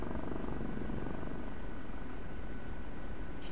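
OH-58D Kiowa Warrior helicopter flying in the combat flight simulator DCS, a steady, loud, dense rotor and turbine roar held unchanged throughout with no talk.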